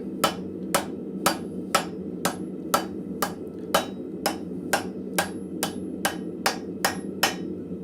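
Steady hammer blows drive hot metal onto a hot cut in a blacksmith's forge, about fifteen sharp ringing strikes at an even, unhurried rhythm, close and clear over a low background hum.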